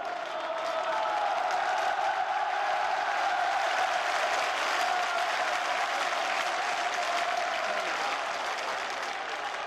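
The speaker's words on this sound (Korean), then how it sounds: "명동성당 앞으로 몰려나온 직장인과 시민들이 외치는 함성은 거대한 파도를 이루었다" A large crowd of office workers and citizens outside Myeongdong Cathedral in Seoul, a dense, steady roar of shouting and clapping like a wave of sound, sustained throughout.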